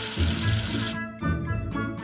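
Tap water runs, rinsing soap away in a sink: a loud continuous splash for about a second, then shorter repeated gushes with brief pauses between them.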